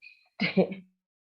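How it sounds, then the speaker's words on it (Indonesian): A single short, close cough breaks the quiet after a faint breathy sound. "sik tak batuk dulu"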